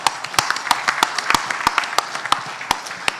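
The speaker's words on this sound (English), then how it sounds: "Round of applause, Coach Jim Streety." Audience applause at a high school football coaches clinic: scattered, fairly sparse claps spread across a few seconds, with individual hand claps standing out sharply rather than merging into a dense roar.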